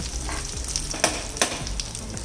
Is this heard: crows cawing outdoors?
no